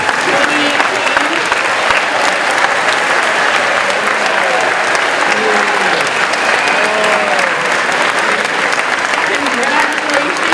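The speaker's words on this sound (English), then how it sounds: "Let's give a round of applause to the class of 2018." Sustained applause from an audience at a school academic planning night welcoming the incoming class of 2018, a dense, even wash of clapping for about ten seconds, with faint voices beneath.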